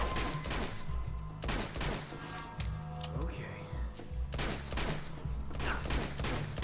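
Gunshots in Uncharted from the Nathan Drake Collection, with a steady barrage of repeated shots and impacts over a dense combat soundscape, with a person talking throughout.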